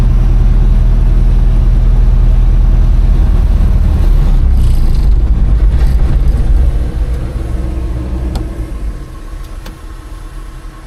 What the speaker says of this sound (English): That's just the engine now.